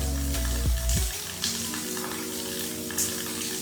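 Water poured from a mixer jar hits a hot pan of okra masala, and a strong sizzle rises over a low electric hum, crackling and hissing steadily after a few clunks.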